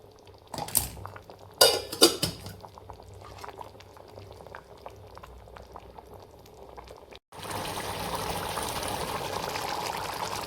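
Eggplant curry is served from a pot onto a plate. Metal utensils clink and scrape against cookware in a few sharp bursts, then a steady bubbling, sizzling hiss takes over near the end.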